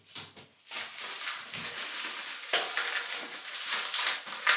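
A mail parcel of shaving samples torn open by hand, crinkling and crushing packaging noises in close, irregular bursts, no talking.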